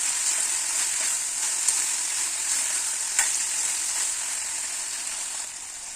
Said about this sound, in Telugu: ఇవి ఒక 5 మినిట్స్ ఫ్రై చేసుకున్నాము.